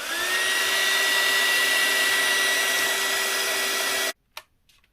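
A heat tool or craft dryer blows steadily and loudly to dry coloured craft work, holding a constant whine for about four seconds before cutting off abruptly into near silence.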